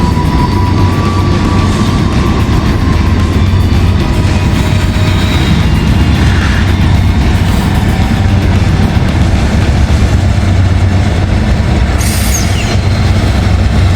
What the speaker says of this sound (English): we got a CSX train